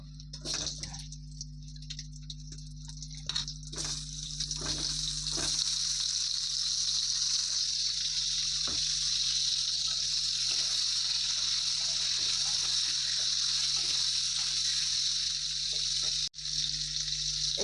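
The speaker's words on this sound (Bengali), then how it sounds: "এবার কড়ার মধ্যে তেল দিয়ে দেব তেলটা গরম হয়ে গিয়েছে এবার আলুগুলো ভালো করে ভেজে নেব" Potatoes frying in hot oil in a wok (kadai), giving a loud, steady hiss and sizzle that fills the whole stretch. A few sharp crackles and pops rise out of it near the start.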